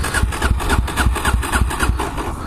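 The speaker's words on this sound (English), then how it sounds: "better stall my bike. I'm gonna jump start it." Dirt bike engine being jump started, a rapid rhythmic series of loud chugging engine pulses that pick up and sputter close by, with no talk.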